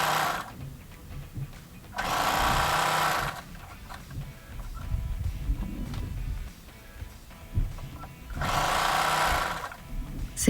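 A sewing machine stitches a blouse front to its lining, joining the pieces from the neck, in two loud steady runs separated by quieter handling and rustling.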